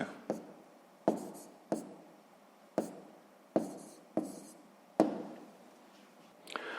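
A pen writes an answer on paper during a sixth-grade maths exercise, giving a series of about nine sharp strokes and taps spaced roughly half a second to a second apart, close and fairly quiet, with no talking.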